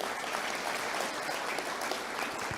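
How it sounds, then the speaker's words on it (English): A comedy show audience claps steadily, a dense even wash of applause from a crowd, fairly loud and with no voices over it. "that deserves a round of applause as well"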